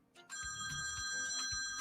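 A newly bought phone rings indoors with a steady, bright electronic tone that repeats in pulses, fairly faint in the room and with no one talking over it.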